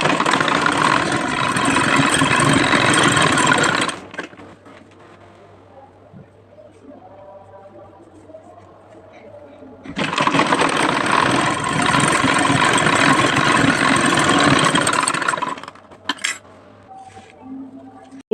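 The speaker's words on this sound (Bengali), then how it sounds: "এভাবে আমি ঘুরিয়ে ঘুরিয়ে সেলাই করে নেব" A sewing machine stitches the side seams of a dress in two loud, close runs of rapid whirring, each several seconds long, separated by a quieter pause filled with faint handling noise.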